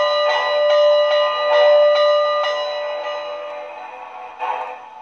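A locomotive bell on an MTH model train rings steadily and close, its repeated strikes riding over a continuous hissing steam background with no talking.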